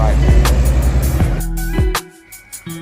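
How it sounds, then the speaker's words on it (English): Car on a drive toward Khorfakkan in the UAE, a steady engine and road drone with passing whooshes and rattles, loud and close, fading somewhat near the end. "here's our car. We're gonna drive it down to the khorfakkan."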